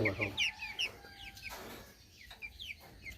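Brahma chickens cluck in short bursts close by on a poultry farm, with a few higher chirps mixed in and faint background noise between calls.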